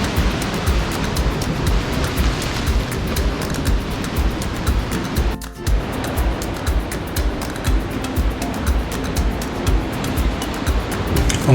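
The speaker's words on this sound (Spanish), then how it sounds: "De repente aparece esta piscina natural ante nuestros ojos, que se va llenando lentamente con cada ola, mientras sube la marea." Ocean waves wash into a natural rock pool on El Hierro as the tide rises, a loud, continuous roar of surf and churning water close by, with no voices.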